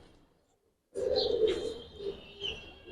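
Pigeons coo at a pigeon seller's, with Giribaz coloured pigeons kept there. After a near-silent start comes a steady run of soft, throaty cooing from birds close by, with a few brighter chirps mixed in. No one speaks.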